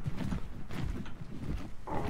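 Rhythmic clip-clop of horse hooves in the video game ARK, a steady trotting pattern of muffled thuds, fairly close and alone without talk.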